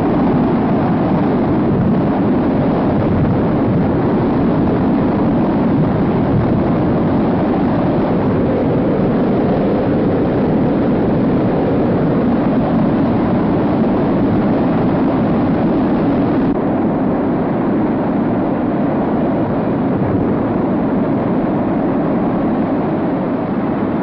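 Steam blasts roaring from the Kilauea volcano eruption in Hawaii, heard from the air as a steady, loud, broadband rushing roar mixed with aircraft and wind noise, continuous throughout with no talk.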